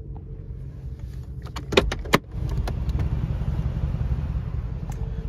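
A 2020 Mercedes-Benz G63 AMG idles with a low, steady engine rumble, broken near the middle by a few sharp clicks and metallic jangles before the hum settles again.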